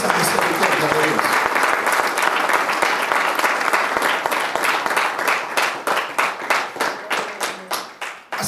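Church congregation applauding during a sermon, a long loud burst of crowd clapping that thins out into fewer, distinct rhythmic claps near the end.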